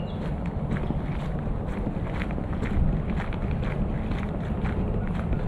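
Gusty wind, about 8 mph, buffets the microphone with a low, rumbling roar, with rhythmic crunching steps of someone hiking outdoors at Barkhausen in April.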